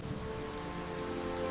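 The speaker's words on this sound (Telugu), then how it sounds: "వాన బయట ఎంత గట్టిగా పడినా" Heavy night rain falls outside a village house in an even, unbroken wash of patter and hiss, moderately loud and steady throughout, with no voices.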